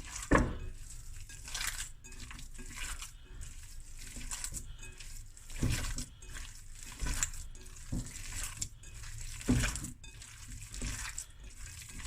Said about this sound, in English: let's mix it with clean hands. Mix it through.